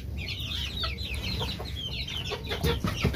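Chicks and small birds, including sparrows and lovebirds, peck and chirp while eating a soft egg-and-bread food, giving dense chattering calls and light clucking over a steady background.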